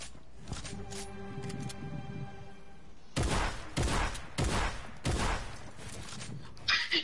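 Gunshots strike a wall in a Fortnite match, sounding as several sharp, loud bursts of rapid fire that start suddenly after a few seconds of quieter game sound, separated by brief gaps.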